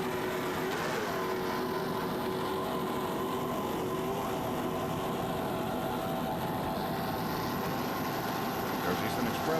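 Offshore racing powerboats roar past at speed during the 1993 Montauk Offshore Grand Prix, a loud sustained engine drone under a commentator's continuous talk.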